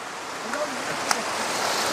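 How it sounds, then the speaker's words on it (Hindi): A waterfall on the Brahmagiri trek near Trimbakeshwar, with water falling from above, makes a steady broadband rush that holds constant at a moderate distance without distinct splashes. "ये देखिए झरने, वहाँ से ऊपर से पानी गिर रहा है"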